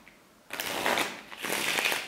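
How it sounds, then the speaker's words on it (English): A deck of playing cards is riffle-shuffled twice in quick succession, each pass a close, crisp flurry of rapid paper flutters. "shuffle deck"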